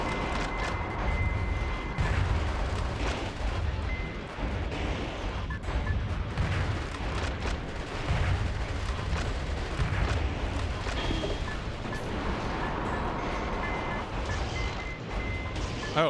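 Bombs going off in the video game Metal Wolf Chaos XD, a dense run of heavy booms and rumbling blasts layered over constant low battle noise, loud and continuous throughout.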